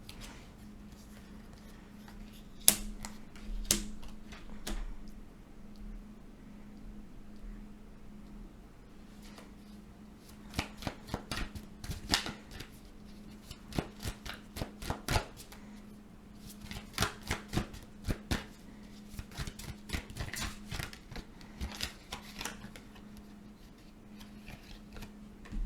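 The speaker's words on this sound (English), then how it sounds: "I usually don't have any problem shuffling these cards." Tarot cards being shuffled by hand, with quiet crisp riffling and tapping in irregular clusters of quick clicks separated by pauses, close and fairly soft over a steady low hum, with no talking.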